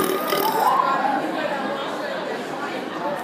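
A loud, drawn-out human burp, deliberately forced as an attempt at a very loud belch, sounding close and harsh for a few seconds with a rough, gurgling texture.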